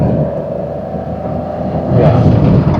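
Maruti Suzuki Dzire AMT engine pulling hard in third gear at around 3500 RPM, a steady loud droning rumble with road noise that builds and brightens near the end as the car accelerates.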